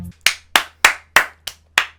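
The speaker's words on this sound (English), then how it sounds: "Round of applause, everyone." Seven slow, evenly spaced hand claps, crisp and close, each standing alone with a short decay before the next.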